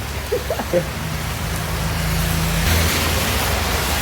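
Rain pours steadily during a motorcycle ride on a Euro Samurai 155 in Calatagan, Batangas, a continuous broad hiss over low engine and wind rumble, with a brief faint voice near the start.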